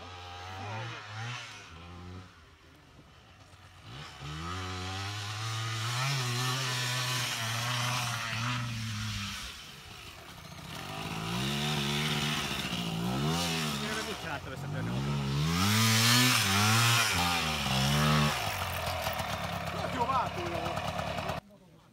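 A Yamaha two-stroke motorcycle engine at a Yamaha TT/XT meet in Dabas revs repeatedly in rising and falling bursts, fairly close and buzzy, while people talk and shout over it throughout.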